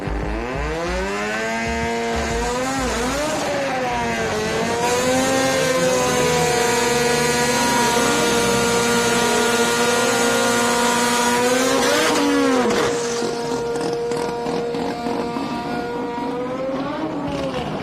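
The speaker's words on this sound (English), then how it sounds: "Serious burnout." Drag race car doing a burnout at a night race meet, a loud sustained high-revving engine howl that climbs and holds in pitch, then drops off sharply near the end.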